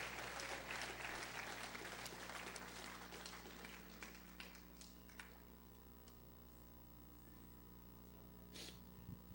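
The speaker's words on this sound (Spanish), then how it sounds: "Alguien dele un aplauso a Dios" Church congregation clapping, a dense crowd applause that is loudest at the start and thins into scattered claps, with a steady low hum beneath.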